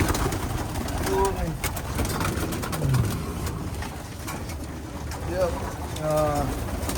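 Pigeons coo in a loft at Capistrano, with several soft, low, rolling coos rising through a steady background hum. Other birds call faintly, and people talk nearby.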